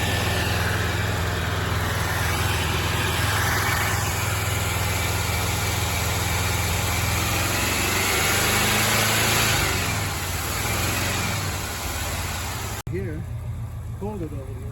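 International Scout 2 with a rebuilt carburetor idles after a cold start following 20 years parked, a steady close rumble burning off transmission fluid, while people talk over it before it cuts abruptly near the end.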